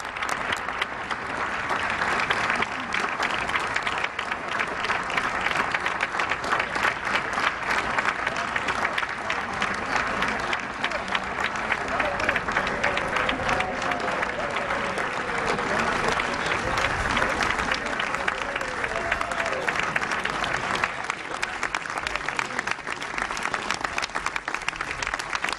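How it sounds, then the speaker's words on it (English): A long, sustained round of applause for the US president at an event with House leaders, dense clapping from a large crowd that holds steady and loud for the whole stretch, with faint voices mixed into the din. "Let's listen in as he gets this round of applause."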